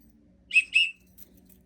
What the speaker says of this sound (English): This is a emergency whistle.